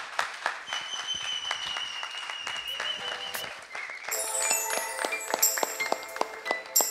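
An audience applauds a performer being introduced at a closing-day event, with scattered claps over background music that brightens with chiming, tinkling tones partway through.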